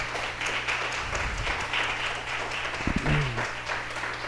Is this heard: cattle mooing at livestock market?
no